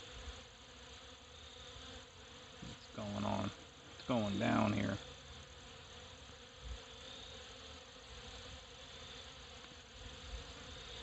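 Honeybees robbing a barrel colony buzz in a steady close swarm drone while someone talks briefly over it.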